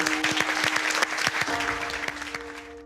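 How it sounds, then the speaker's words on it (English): A television studio audience gives a round of applause on a startup-themed show, a dense, loud burst of clapping with sharp individual claps standing out, over a sustained music tone and fading toward the end. "Give it a round of applause."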